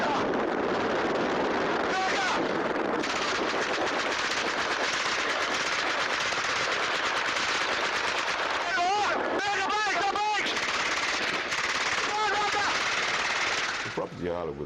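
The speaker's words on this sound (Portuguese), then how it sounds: "a quantidade de tiros disparados nesse bairro residencial" Rapid bursts of machine-gun fire crackle loudly and continuously in a residential neighborhood, with dense repeated shots under a steady roar and radio-like voices talking over it.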